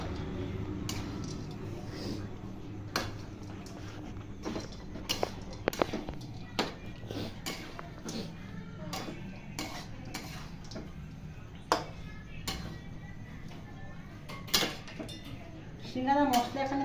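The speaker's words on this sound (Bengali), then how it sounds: "ভালো করে মিশিয়ে নেবো।" Grated coconut and coriander leaves are mixed into a vegetarian singara filling in a bowl, with scattered sharp spoon clicks and taps against the dish and soft background murmur that sounds like faint talking.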